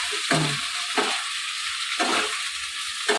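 Onion, capsicum and green chili sizzle lightly in a pan, a steady close frying hiss broken by a few sharp bursts as the pieces are stirred.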